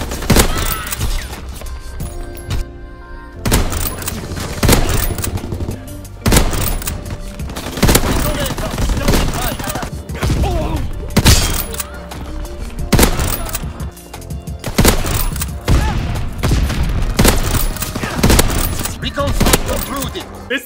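Lever-action sniper rifle in Call of Duty WW2 fires repeatedly, loud sharp shots arriving every couple of seconds with the bolt-lever working between them, backed by constant game battle noise and no talk.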